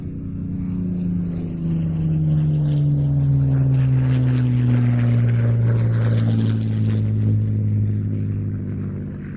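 Spitfire Mark 9 fighter with a Rolls-Royce Merlin engine flying, a loud, steady propeller-engine drone whose pitch slowly drops as it passes, with no voices.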